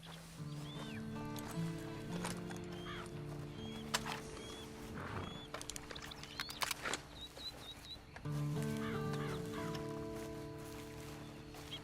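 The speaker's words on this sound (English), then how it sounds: "And you better get on this horse." A horse in the video game Red Dead Online snorts and shifts with a few hoof clops, mostly in the middle stretch, beneath steady sustained game music.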